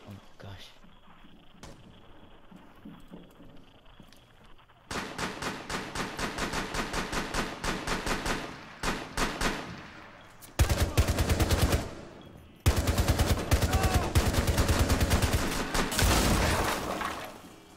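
Gunfire in a shooter video game rattles in rapid automatic bursts, loud and continuous over several stretches, with a quieter lead-in where a player talks.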